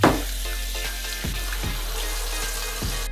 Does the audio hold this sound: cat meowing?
no